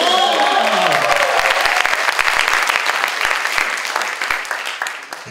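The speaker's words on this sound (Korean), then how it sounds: "이 모든 분들 대박나시라고 박수 한번 좀" Studio audience applause on a talk show, a loud, full round of clapping that starts strong with some sharp individual claps standing out, then gradually thins and fades toward the end.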